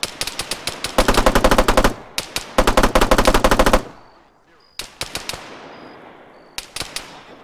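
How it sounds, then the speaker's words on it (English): Bursts of automatic machine-gun fire with tracer rounds in the ArmA 3 battlefield, two long sustained strings followed by a pause and a few short, sharp volleys trailing off into distant echoes. "Yeah, fire tracers."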